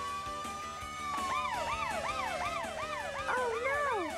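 Several wailing police car sirens rise and fall in overlapping cycles, loud and close, with a steady engine-like hum underneath, from The Tomica World Show.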